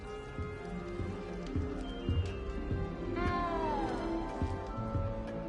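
In the video game Hogwarts Legacy a frightened little cat gives one clear meow over a steady bed of rain and ambient game sound.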